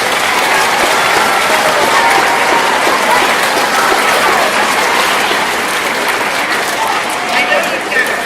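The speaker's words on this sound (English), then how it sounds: "So I think they deserve a little bit extra round of applause." A packed school assembly audience breaks into loud, sustained applause for the national anthem singers at a middle school's 25th anniversary. Dense clapping fills the hall evenly from start to end, with crowd noise and no clear speech.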